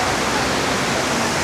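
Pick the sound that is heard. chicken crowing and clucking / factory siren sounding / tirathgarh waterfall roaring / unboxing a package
tirathgarh waterfall roaring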